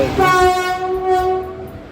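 A train at a railway station sounds a loud, sustained horn tone over a low rumble of rolling wheels, close by and with no voices.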